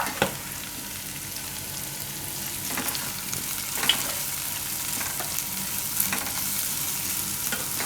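Turmeric, coriander-cumin powder and red chilli are stirred in a pan on low gas for a Mughlai paratha filling, with a steady sizzle of frying broken by periodic scraping strokes of the spoon, close and with no talking.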